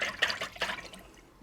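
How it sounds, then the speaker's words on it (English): Beef stock poured into a Ninja Foodi pot makes a brief splashing, gurgling liquid sound, close and moderately quiet. "I'm going to go ahead and add beef stock."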